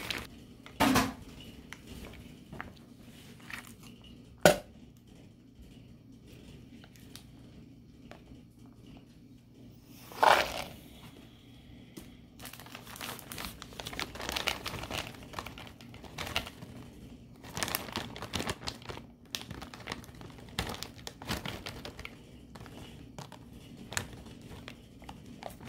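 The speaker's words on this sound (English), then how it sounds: "Now we will chop these up" A knife chopping a pound of raisins on a chopping board, with irregular bursts of close, dull taps and clatter, some louder knocks and stretches of quick repeated chopping.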